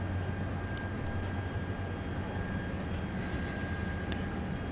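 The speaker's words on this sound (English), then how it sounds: "Flight 2204 from Kansas City, 737-800" A Boeing 737-800 arriving from Kansas City at Dallas Love Field in the evening, heard as a steady, distant broadband jet roar over a low rumble, with no pause or change across the span.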